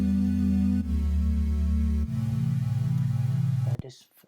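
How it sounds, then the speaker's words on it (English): Lush retro synth pads holding long, warm chords that change twice before cutting off near the end, playing alone. "They just have like a nice retro feel to it"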